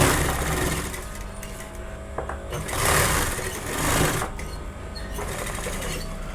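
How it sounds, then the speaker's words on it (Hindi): A sewing machine stitches through buckram laid over fabric in rapid, buzzing runs, which speed up and slow down in several bursts, close and loud with no talk. "हमें इस तरह से बुकरम के ऊपर सिलाई लगाएंगे"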